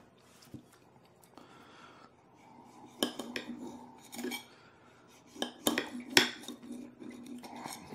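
Pickled banana peppers being cut into a few pieces, knife strikes tapping sharply against a cutting board in scattered clusters, with soft wet squishing and small kitchen clatter between cuts, close and alone.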